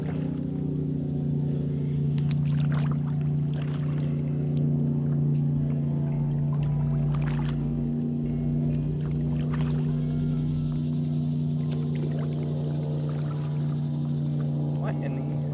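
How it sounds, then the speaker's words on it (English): Steady low engine drone of a boat passing on a river, holding at a constant distance with faint background noise. "there's a boat going by on the main river"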